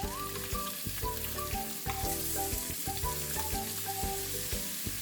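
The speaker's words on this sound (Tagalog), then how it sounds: "Ngayon ay atin na lutuin ang seafood mix." Salmon and shrimp in a seafood mix fry in a pan with a constant crackling sizzle. Soft music plays along beneath it.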